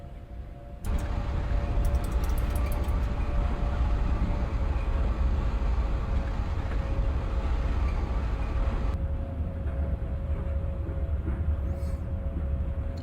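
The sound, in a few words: Manchester Metrolink tram running, Microsoft Train Simulator video game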